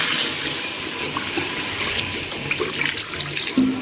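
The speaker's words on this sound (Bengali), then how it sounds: "এবার এর ভিতরে জল ঢালা হবে" Water poured into freshly ground spice paste for a Bengali mutton curry, a strong continuous tap-like gushing and splashing that stays loud and steady throughout, with no talking.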